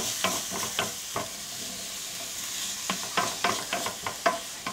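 Chickpeas being stirred in a pan of curry with turmeric and spices, a steady sizzle broken by about a dozen sharp scraping strokes that bunch up toward the end, close and fairly quiet, with no talking.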